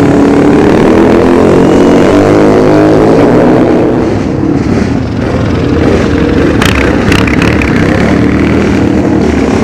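Several loud flat track racing motorcycles roar and rev together at close range, their whine rising and falling continuously as they race past.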